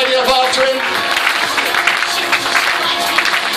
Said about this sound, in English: Let's get a hand clap going while we tidy up after him